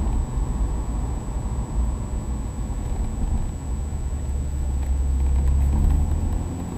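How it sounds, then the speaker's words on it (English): A Ferrari's engine rumbles low and steady nearby, swelling slightly toward the end over a constant background hiss, with no voices. "Yeah, that's a Ferrari."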